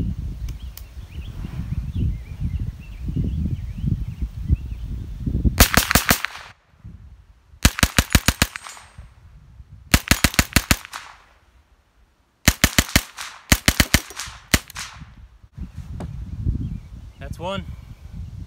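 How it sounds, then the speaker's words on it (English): A CMMG .22 conversion fired with a binary trigger gives several loud, fast bursts of sharp cracks in rapid strings, separated by brief pauses, with rustling and movement between strings. "we'll start with giving the binary trigger a workout and see how that holds up"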